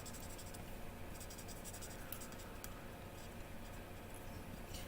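Ink marker colouring over paper in petal pink, a soft continuous scratchy rubbing of the felt tip with faint ticks, close and quiet with no voices.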